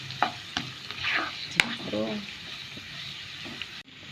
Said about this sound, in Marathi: पयलीं तें डीप फ्राय केलें न्हू आनी अशें करून बरें करून भाजूं जाय तें